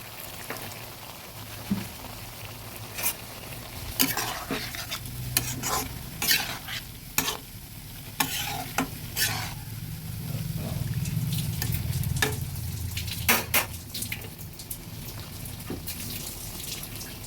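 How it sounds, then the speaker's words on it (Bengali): Kechki fish cooking with flat beans and potato gets gently stirred in a pan, soft spatula knocks and scrapes over a low sizzle, then a splash of added water briefly swells the bubbling. "আলতো হাতে নেড়ে দিলাম হালকা একটু জলও দিয়ে দিচ্ছি একবারে"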